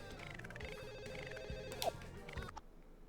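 A telephone rings in The Sims on PS2, a faint, tonal electronic trill that repeats in short bursts over quiet game music and effects.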